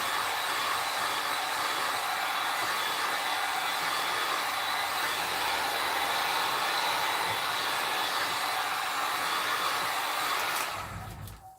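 A craft heat tool blows hot air in a steady, loud, broadband whoosh that runs continuously for about ten seconds, then cuts off and fades as it is switched off near the end.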